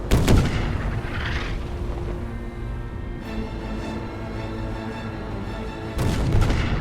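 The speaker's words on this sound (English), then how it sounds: "As the Hood sinks, the forward gun crew heroically fires a final salvo" A battleship's forward guns fire a final salvo as HMS Hood sinks, with heavy booming blasts at the start and again near the end over a continuous low rumble.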